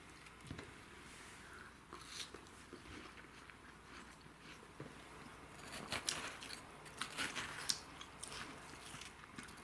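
Someone bites and chews a slice of red watermelon, with faint, irregular wet crunching and squishing bites scattered across several seconds in a quiet indoor kitchen.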